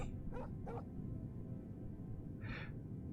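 Dogs in the fantasy video game Oblivion give a few short, faint yips and whimpers over a steady low game ambience, with two quick calls early and one more later.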